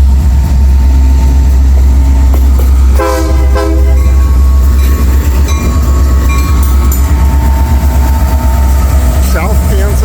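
A South Kansas and Oklahoma Railway train passes through downtown Bartlesville, Oklahoma on a hot day, a loud continuous rumble and rattle of cars with a long, close horn blast partway through.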